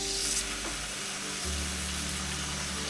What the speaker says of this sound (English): We'll then melt the tallow or butter over medium heat and add the ground beef, cooking it until it's just browned.